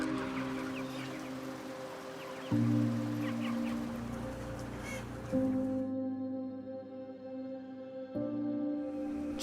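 Chickens crowded in an indoor broiler shed, a dense, steady murmur of clucking and calls over a low ventilation hum, with no talking.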